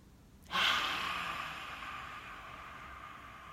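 A single deep inhale during a facial breathing exercise, a sudden loud airy breath close to the microphone that fades slowly into a soft, drawn-out breath.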